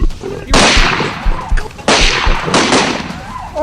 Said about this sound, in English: Just one gunshot, and he fell to the ground right at the feet of the hunter.